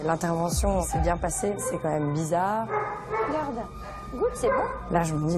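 A weak, sick dog at a veterinary clinic whimpers and yips in high, wavering cries, mixed with people talking close by.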